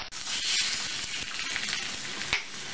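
Beaten eggs spread in a pan over a low flame for a bread omelette sizzle and crackle continuously and close up, with a brief scrape partway through.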